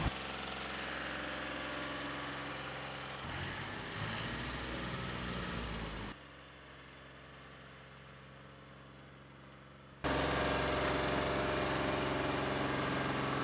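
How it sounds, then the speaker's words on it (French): A tractor harrows a clay tennis court, its engine droning steadily at close range, easing to a quieter hum midway before roaring back up toward the end. "Le tracteur ouvre par bande et vient reprendre sur la première qu'il a fait."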